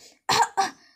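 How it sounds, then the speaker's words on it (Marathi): A man coughs loudly and deliberately, faking a choking fit during a Marathi TV serial scene: two forceful, close coughs about a quarter second apart, with a faint voice before them. "आता खरं तर तो मुद्दामून जोरजोरात खोकत असतो."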